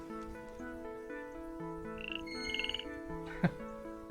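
A frog croaks in the space-farming video game Milkmaid of the Milky Way, one or two soft squeaky calls over a gentle, sustained music bed, fairly faint and with no voices.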